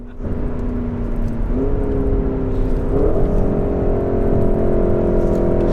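A 2021 Porsche Cayenne Turbo GT, a 640 hp super sports SUV, accelerating on cold, damp tarmac, its engine droning steadily with rising pitch that steps up through the 8-speed automatic's gearshifts, loud and continuous from inside the car.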